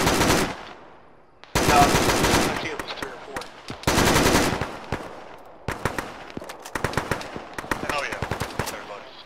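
Loud bursts of automatic gunfire and rapid shots from a military shooter video game, Arma-style, arriving in repeated volleys separated by short pauses, with radio-like voices talking in between.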